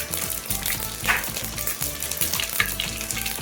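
Fenugreek and mustard seeds crackling in plenty of hot oil for an Andhra-style fish curry, a close, continuous sizzle with small popping bursts and light stirring, no voices.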